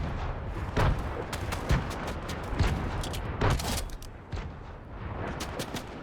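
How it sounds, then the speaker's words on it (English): Grenade explosions in the Fortnite video game, a run of roughly six sharp booming bursts spaced about a second apart over continuous game noise, with no talking. "I had a bunch of grenades, and I just chunk them, all of them"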